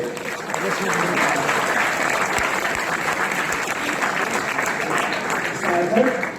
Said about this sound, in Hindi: तो एक बार जोरदार ताली सभी खूबसूरत लोगों के लिए।